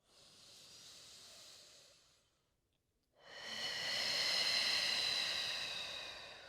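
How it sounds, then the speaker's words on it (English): Two slow, deep breaths taken during a yoga flow, each a long airy hiss close to the ear, the second louder and fuller after a brief silent pause. "Couple of deep breaths."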